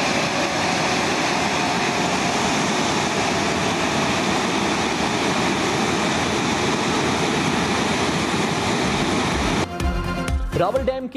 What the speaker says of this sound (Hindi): रावल डैम के स्पिलवेज मुसलसल तीसरी मरतबा खोल दिए गए।